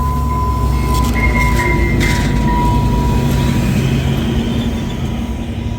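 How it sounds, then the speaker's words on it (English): A continuous low rumble of an Exo Bombardier commuter train rolling on rails, steady and loud from inside, with a faint squeal and tonal hum. "we are going for a train ride"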